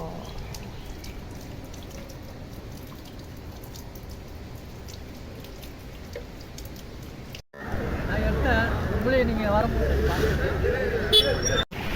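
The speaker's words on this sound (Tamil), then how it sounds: "மழை பெய்யுது கோயில் கோபுரமே தெரியல மழை அப்படி பெய்யுது" Cyclone rain falls steadily in Chennai, then after a brief cut the downpour grows louder and closer, dense and drumming, with talk heard along the way.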